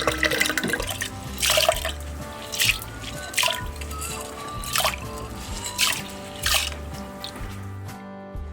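Water and soaked glutinous rice pour into a food blender with a steady, close trickling splash, broken by several louder gulping surges, and no talking.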